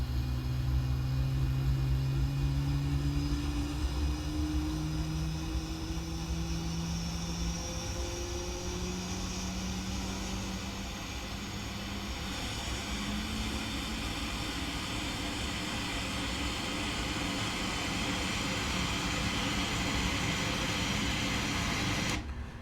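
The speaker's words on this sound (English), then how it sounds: "That's a successful start on engine number 2." Boeing 777 engine number 2 winding up during its start in the PMDG flight simulator, a steady rumbling hum with tones that slowly climb in pitch, dipping briefly midway before settling into an even whine.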